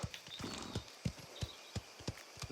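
Horse hooves clip-clop in the Mafia The Old Country video game, a steady walking rhythm of about eight sharp near hoofbeats over a faint ambient background.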